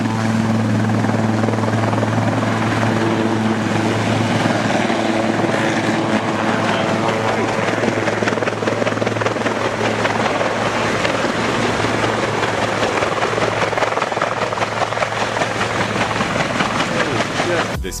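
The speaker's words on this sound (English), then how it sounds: "This helicopter took off from a road and accidentally hit a power line." A helicopter taking off from a road, shortly before it accidentally strikes a power line, makes a steady loud rotor and engine roar that holds throughout without letup.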